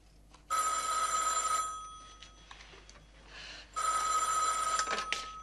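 A telephone rings loud and close in two long bell-like bursts separated by a quieter gap with faint rustling.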